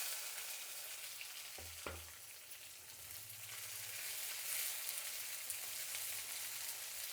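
Onion and dried red chillies hitting hot oil in a pan, a soft steady sizzle with a couple of brief bumps near the start, quiet and fairly distant, no voices.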